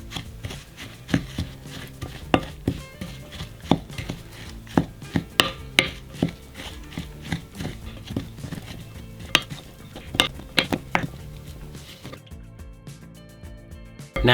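Vegan ground turkey is mixed with onion powder, cumin, umami seasoning, salt and nutritional yeast in a bowl, making close, irregular scraping, tapping and clacking of a utensil against the dish with brief pauses.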